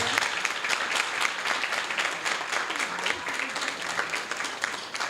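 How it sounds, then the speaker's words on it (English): A studio audience applauds guest Mr. Booker Morris of Congresswoman Sheila Jackson Lee's office, sustained clapping from many hands with individual claps audible through the wash, steady from start to finish. "I'd like to give him a applause and have him come on up here."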